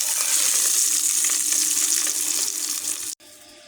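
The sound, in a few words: eggs frying in oil in a pan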